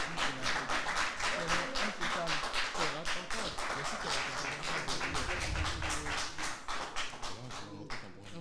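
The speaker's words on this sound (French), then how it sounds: "Ah, Luis Nino, très applaudi dans l'arène." Steady rapid applause fills a televised quiz arena, a dense even patter of many hands clapping throughout, with a presenter talking over it.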